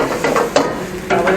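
Chili paste stirred into a sizzling pan for pad kra pao, a steady frying hiss with scraping stir strokes across a short stretch, close and fairly loud.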